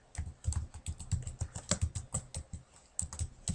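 Keys clatter on a computer keyboard in quick, uneven bursts of clicks, close and fairly quiet, with short pauses between runs of typing.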